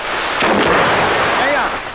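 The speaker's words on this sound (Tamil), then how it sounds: "இப்ப வெடி வெடிச்சத அந்த சத்தம் கேட்கலையான்னு கேட்டேன்" A firecracker explosion sets off a loud, broad boom that rolls and rumbles for about two seconds before easing away.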